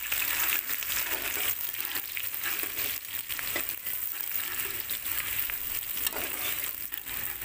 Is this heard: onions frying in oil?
yes